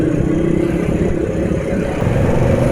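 A vehicle engine runs rough and revs steadily, a continuous low, coarse drone that holds at an even loudness for the whole stretch, close by, with no voices.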